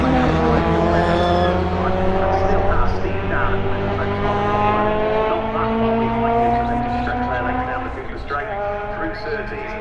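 Race cars roar around the Brands Hatch circuit through McLaren toward Clearway, a loud, sustained engine drone with shifting pitch as they pass, while a commentator talks over it.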